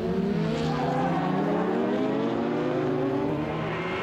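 Superbike motorcycles racing flat out on a closed public road course, engine tone climbing steadily in rising harmonic sweeps, loud and continuous with no pauses.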